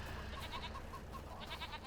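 Farm goats in a video game bleat repeatedly, several wavering calls in quick succession close by over a low rumbling background.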